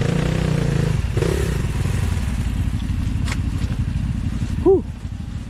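A Kawasaki KLX 140 dirt bike engine runs close by, a steady throbbing mid-rev drone with clatter and a brief rising whine near the end, while voices talk briefly early on.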